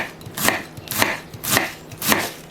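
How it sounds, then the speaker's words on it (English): A knife slicing half a cabbage thinly for coleslaw, four evenly spaced crunchy cuts against a board, close and distinct with no talk. "Lay your cabbage half on its side and then you can start slicing into your preferred thickness."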